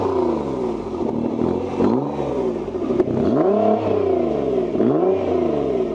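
A stock Nissan GT-R, its engine not fully warmed up, revs repeatedly with rising and falling pitch, loud and close, with a sharp exhaust crack partway through and no talking.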